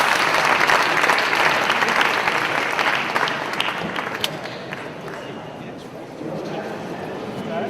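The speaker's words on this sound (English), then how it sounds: "everybody give a last final round of applause" Conference audience applauds after a frontend architecture talk, a loud sustained burst of clapping from a crowd that gradually thins and fades toward the end.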